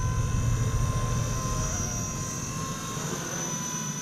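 Blade 230 RC helicopter flying inverted, its rotor and motor giving a steady loud whirring buzz with a high electric whine, fairly close and continuous throughout without talk.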